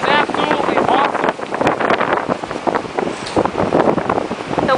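Ocean surf and strong wind at Marconi Beach on a snowy winter day, a loud continuous roar of waves with heavy wind buffeting close to the microphone.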